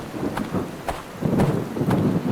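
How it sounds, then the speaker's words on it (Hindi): Heavy rain pours steadily in a horror video game, broken by several sharp thunder cracks, loud and close with no voices. "इतनी बारिश हो रही है"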